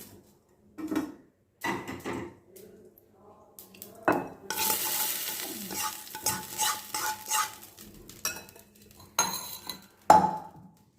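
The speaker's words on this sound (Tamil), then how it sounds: "இப்போ இதோட கடுகு தாளிச்சிருக்கேன்" Mustard seeds sizzling as they are tempered in hot oil for a bread paniyaram batter, a loud close crackle with stirring clinks and scrapes of a spoon against the pan, no talk.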